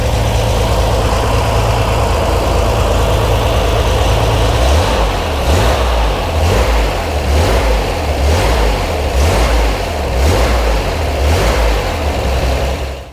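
A Chevrolet Corvair engine fitted with an automatic belt tensioner runs loud and close, idling steadily at first, then revved in a series of repeated throttle blips that rise and fall rhythmically before settling, with no talking.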